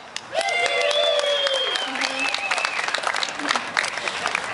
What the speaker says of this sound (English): give yourselves a round of applause for being here today